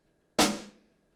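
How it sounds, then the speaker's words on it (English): One sharp snare drum sample from an E-mu percussion module, a bright crack with a noisy rattle that fades out in under half a second, close and isolated. "Now it's time to show the next sound, and it is a snare drum, and it sounds like this."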